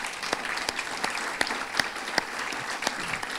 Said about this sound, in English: So y'all can get it a hand clap.